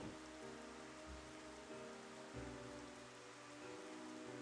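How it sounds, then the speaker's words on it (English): Steady rain falling in the video game Xenoblade Chronicles, a constant hiss of drops with a low, gentle background hum and soft musical tones underneath. "Oh, it's raining."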